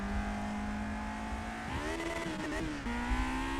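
In a racing video game mod, a 1968 Formula One car's engine drones steadily, then wavers and drops in pitch under braking, with a rough scraping burst of contact before the engine note steadies again.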